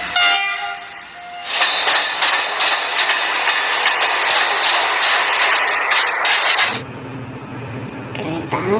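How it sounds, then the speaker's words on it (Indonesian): A red toy train runs with a continuous mechanical rattle and a repeating horn-like electronic tone, loud and close, before the sound shifts abruptly near the end. "Kereta api nih teman-teman, warna merah."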